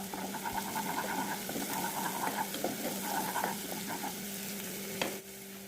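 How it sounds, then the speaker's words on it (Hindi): Garlic and ginger paste sautéing in hot ghee in a pan, a steady close sizzle with stirring scrapes throughout, fairly quiet, easing off at the end. "अब मैं इसमें हाफ़ टेबल स्पून लहसुन और हाफ़ टेबल स्पून अदरक का पेस्ट ऐड करूँगी और इनको हल्का हल्का सौते कर लूँगी"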